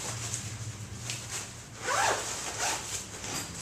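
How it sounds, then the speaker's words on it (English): A zipper is pulled closed on a dark bag used for loading Polaroid film: a close, fairly quiet rasping zip with a brighter drawn-out pull near the middle, alone without talk. "Zip it up."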